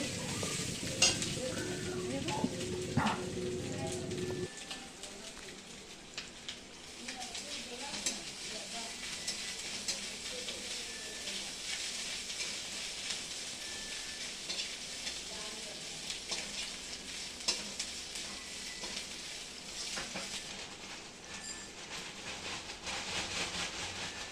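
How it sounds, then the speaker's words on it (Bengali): Spices tempering in hot oil for a bitter dal, a long steady sizzle and hiss heard close, faint overall, with occasional pops and a lower rumble in the first few seconds. "দিদি এখন তিতা ডালের সম্বারটা দিচ্ছে"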